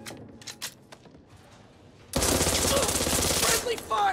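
Automatic gunfire blasts from a firefight in the co-op zombie shooter Back 4 Blood, a long, loud continuous burst that starts abruptly after a quieter stretch of scattered shots and stops near the end.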